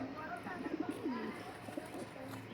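Soft, low coos of booted Lakkha and Lotan pigeons repeat quietly, with a muffled, murmuring background.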